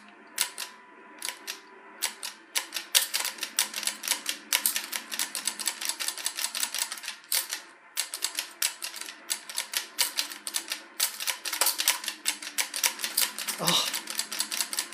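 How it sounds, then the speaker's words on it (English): Rapid, loud mechanical clicking from a light gun shooting machine in a Simple 1500 Series gun shooting game, bursts firing in quick irregular volleys for the whole stretch, with a brief pause near the end. "apologies for all the clicking. That's just the nature of this machine"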